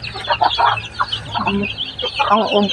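A flock of backyard chickens clucks and squawks near the microphone in a steady, overlapping stream of short calls, with faint background sounds underneath.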